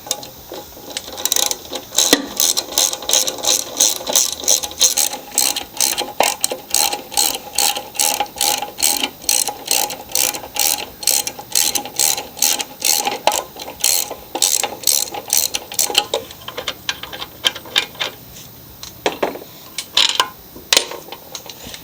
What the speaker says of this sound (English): To get this carburetor and gas tank off, it's pretty simple. It's just 2 bolts.